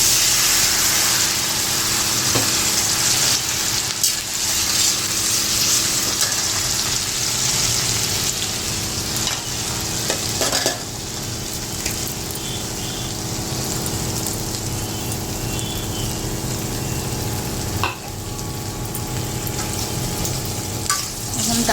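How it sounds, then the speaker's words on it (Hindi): Coarsely crushed spices frying in hot oil for a lentil dish, a loud, dense, continuous sizzle heard up close throughout, with a few brief dips and bumps. "सबसे पहले जब तेल गरम हो जाएगा ना, इन्हीं चीज़ों को मैं डालूँगी इसमें"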